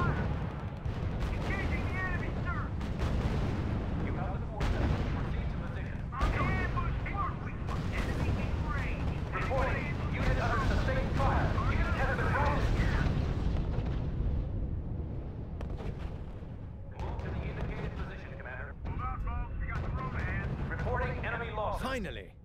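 Gunfire and artillery thud repeatedly in a RUSE wargame battle, with dense overlapping bursts and booms. Radio-style voices speak over the combat.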